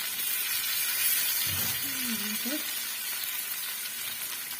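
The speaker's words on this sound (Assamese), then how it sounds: "পিঠা তেলত ডুবিয়াব নালাগে, এনেকৈ ভাজিলেই হয়।" Steady hiss of bottle gourd pitha shallow-frying in oil fills the clip, with a brief faint murmur partway through.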